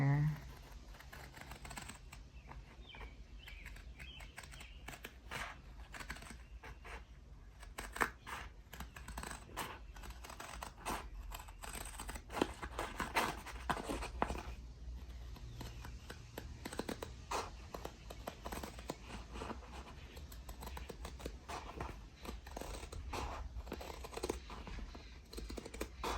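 Canvas paper being cut with a paper cutter, heard as soft, repeated snips and rustling handling sounds, close but quiet, with a person talking over much of it.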